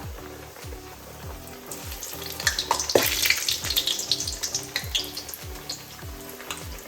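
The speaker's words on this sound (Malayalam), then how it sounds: "എന്നിട്ട് ഇത് നേരെ നമ്മൾ ഓയിലിനകത്തോട്ട് ഇടുവാണ്." Breaded schnitzel frying in hot oil, with a steady crackling sizzle that swells into denser bubbling midway, over a faint regular low mechanical pulse, with no talking.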